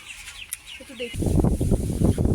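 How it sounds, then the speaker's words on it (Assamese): A shed of about 1700 broiler chickens on a poultry farm starts with faint chirps. It then swells into a loud, dense mass of clucking and rustling from the flock, heard close up. "আমাৰ ব্ৰইলাৰ মুৰ্গী ইয়াত মুৰ্গী আছে 1700"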